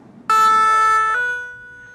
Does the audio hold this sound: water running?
no